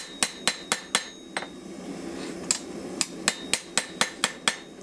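A hammer strikes a hand-forged Viking-style antler knife blade on a dipped anvil to straighten it, giving about a dozen sharp, ringing metallic blows in uneven bursts, close and loud against a quiet room.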